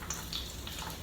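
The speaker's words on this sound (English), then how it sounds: "I'm gonna let the oil heat up, and I'm gonna start frying my vegetables" Onions frying in hot oil in a pan on the stove, a soft steady sizzle close by with a few brief stirring clinks, no talking.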